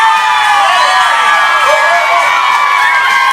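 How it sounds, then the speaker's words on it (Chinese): A concert audience at an outdoor Hakka music show in Xinwu, Taoyuan cheers and screams loudly and continuously, with high-pitched shrieks rising and falling above the crowd roar. "最热情的尖叫"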